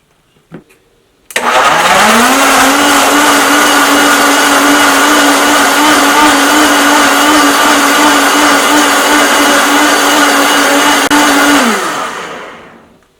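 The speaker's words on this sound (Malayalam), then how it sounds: "ഈ പൈനാപ്പിൾ നമ്മൾ മിക്സിയിലിട്ട് അടിക്കാൻ വേണ്ടിട്ട് പോവാട്ടെ" A kitchen mixer grinder blends pineapple pieces with a glass of water into juice, starting abruptly and holding a loud, steady motor whine for about ten seconds before winding down.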